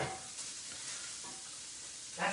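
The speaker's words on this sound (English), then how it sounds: "Okay, the pancetta is rendering." Pancetta sizzles and crackles steadily in a pan, with soft scraping swishes from stirring and a brief louder scrape near the end, faint and close.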